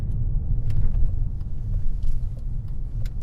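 BMW E39 530i with a 230-horsepower inline-six driving on the road, a steady low engine rumble and road noise heard from inside the car, with faint light clicks over it.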